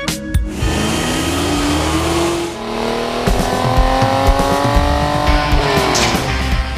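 A 1985 Buick Grand National turbocharged car drives hard, its engine note climbing and shifting with revving and a brief tire squeal, loud and close throughout with no talk.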